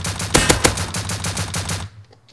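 LR300 assault rifle hip-fired in the survival video game Rust, a loud rapid burst of automatic shots in close succession lasting almost two seconds before cutting off abruptly to near silence.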